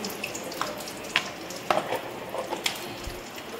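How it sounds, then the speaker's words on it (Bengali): Black cumin seeds tempering in hot oil, a soft, low sizzle with scattered light pops and clicks, faint and close with no talking. "কালো জিরে ফোড়ন দিয়ে দিলাম"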